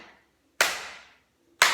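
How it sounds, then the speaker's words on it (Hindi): Two sharp, loud hand claps made with arms raised fully overhead, about a second apart, each ringing briefly in a quiet room, no voices. "फिर दूसरी ताली होगी पूरे हाथ ऊपर और ऐसे ताली बजाएंगे"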